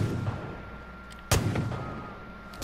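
A revolver fires in the Far Cry 5 video game, one sharp loud shot in the middle followed by a fading echo, with quieter thuds and distant reports around it over a low ambient hum.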